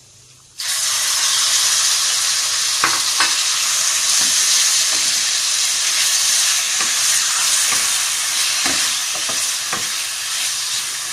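Chicken pieces drop into a hot pan and burst into a loud, continuous sizzle. Faint scrapes from stirring recur through the frying, which stays steady and close until the end.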